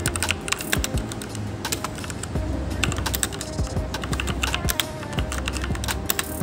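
Fast, continuous typing on a Meca Master mechanical keyboard, dense clicky keystrokes with a few heavier thumps, close and steady throughout with no talking.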